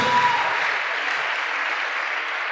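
Applause from a church congregation, a steady wash of many hands clapping close and loud throughout, with no break in the rhythm.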